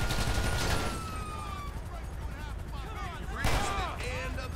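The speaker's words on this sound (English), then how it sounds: "Brake check and he's shooting at him?" Gunfire in Grand Theft Auto V during a highway patrol chase in Blaine County, with bursts of in-game shots cracking over engine and street noise, a loud volley near the start and another sharp burst later, with a voice speaking between.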